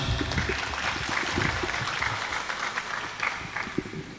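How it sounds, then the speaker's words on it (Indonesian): An audience at a religious talk and book launch applauds with a steady, fairly faint patter of many hands clapping for several seconds. "Tepuk tangan semuanya."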